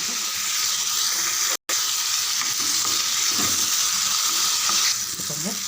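Tomato and curry leaves sautéing in a pan give a steady, close sizzle and frying hiss with stirring scrapes, briefly cut off by a short silent gap midway.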